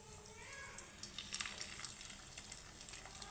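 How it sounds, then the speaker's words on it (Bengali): Fish roe fritters frying in hot oil give a steady, soft crackling sizzle with scattered small pops and occasional brief spatters, heard fairly close and without talking. "এখন আমি বড়াগুলো ভেজে নেব"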